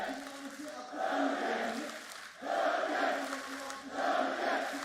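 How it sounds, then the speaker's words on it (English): A large esports arena crowd at a Valorant championship match in Istanbul roars in repeated surging waves, rising and falling several times, loud and distant-sounding with no clear talk on top. "Crowd erupts as support comes through for Durka."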